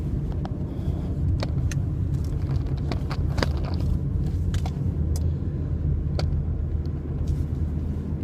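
From inside a car driving along the road comes a steady, loud low rumble of tyres and engine, with faint scattered ticks and clicks over the constant drone.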